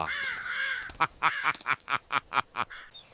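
A crow caws repeatedly, a drawn-out harsh call followed by about eight short evenly spaced caws, loud and close with no talking.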